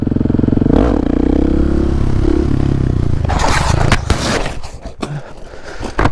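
A Husqvarna 701 motorcycle engine revs loud and close, its throttle blipping and dropping, then breaking into rough clattering and scraping bursts with uneven surges near the end.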